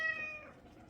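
A pet cat gives a single short meow, close and fairly quiet, in a home kitchen while a pumpkin pie is being made.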